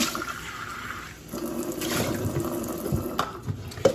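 Water pours onto sushi rice in a pot, a steady splashing stream that swells and ebbs over a few seconds, close and fairly loud, with no speech.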